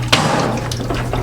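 Water trickling and splashing down a small waterfall in a baby anaconda's tank, a close, steady splashing burble with a low pump hum beneath.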